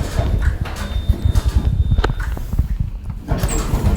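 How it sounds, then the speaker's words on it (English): Large hospital lift doors slide shut with a rumbling mechanical motion and a soft thud, followed by a quieter moment and some light movement. "Door closed."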